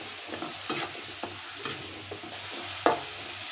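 Potatoes fry with red chili powder, salt and a splash of water in a pan, a soft steady sizzle broken by several clinks and scrapes of stirring, close up with no talk.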